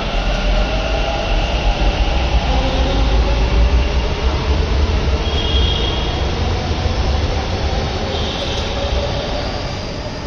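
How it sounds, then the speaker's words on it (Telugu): A Bengaluru Metro train rumbles and roars continuously as it departs Yesvantpur station, with a rising whine and occasional squeal as it pulls away, loud and close throughout. "మెట్రో వెళ్ళిపోతుంది యశ్వంతపూర్ నుంచి."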